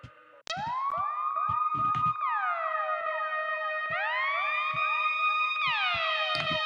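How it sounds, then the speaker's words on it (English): A Kill Bill-style wailing siren sample in a music track rises and falls in repeated sweeping cycles. It sounds loud and synthetic and carries on steadily with sparse percussive hits underneath. "we got this like Kill Bill siren in the background"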